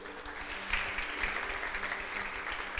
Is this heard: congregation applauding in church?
yes